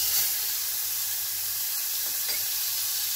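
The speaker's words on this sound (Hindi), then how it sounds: "तो अभी इसमें गरम तेल में जो कांदा पिसा हुआ अदरक लहसुन था वो दे देंगे।" Ground onion, ginger and garlic paste sizzles steadily in hot oil, giving a constant, fairly quiet hiss with no talking.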